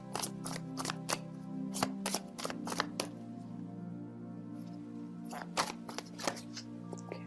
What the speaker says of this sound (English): So let me just pull out a card.